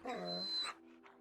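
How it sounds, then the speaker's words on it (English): A wounded dog in the Fallout 4 wasteland gives a brief, close whimper with panting, followed by softer tonal whines as the sound fades. "Oh, a wounded dog."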